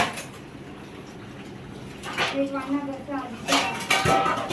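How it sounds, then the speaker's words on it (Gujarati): Metal cooking utensils being scrubbed and washed by hand, first a low steady wash, then ringing knocks and clattering scrapes in the second half, with a voice nearby. "એક વાર ઘસી નાખે આ બીજી વખત ઘસાય છે વાસણ"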